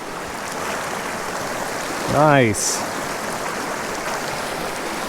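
A mountain creek holding brook trout, fished with a tenkara rod, rushes steadily and close throughout, with a brief spoken word near the middle.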